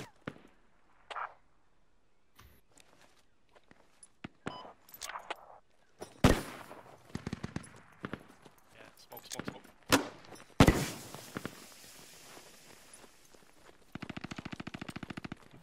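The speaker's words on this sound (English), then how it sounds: "Taking fire." Bursts of gunfire in a tactical shooter game, sharp automatic volleys and single shots scattered across the clip, loud and close at moments, with a rapid sustained rattle near the end and players talking over the action.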